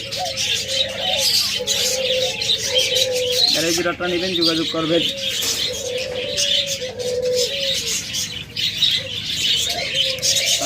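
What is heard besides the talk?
caged birds chirping and cooing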